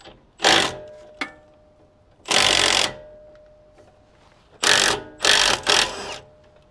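An impact wrench loosens upper control arm bolts during a 3.5-inch lift kit install, firing four loud, close, buzzing mechanical bursts, each about half a second to a second long, separated by quiet gaps and no talking.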